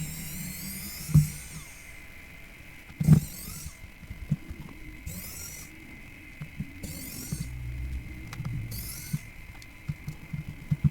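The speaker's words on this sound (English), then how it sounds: "Unscrew the screws." Small electric screwdriver backing screws out of a Samsung A14 phone frame during a screen replacement, high whirring bursts repeating every couple of seconds with a few sharp clicks, close and fairly quiet.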